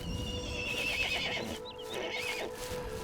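A horse whinnies in a high, wavering call over a steady background hum, with faint hoof sounds mixed in.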